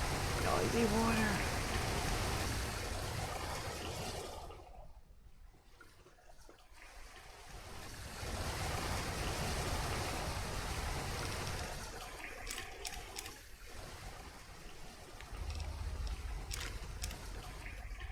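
Loud, steady rushing water in Fallout: New Vegas: a broad, hissing flow that briefly thins to near quiet midway, then returns full and continues to the end.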